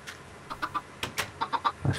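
Chickens in Minecraft give a run of short clucks close by, in quick groups of two and three, then one lower cluck at the end.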